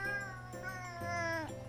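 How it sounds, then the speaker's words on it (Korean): A cat makes close, drawn-out meowing vocalizations in a short burst, with a low rumbling purr-like tone underneath. "지금 막 골골송 부르면서 얘기를 하고 있네요."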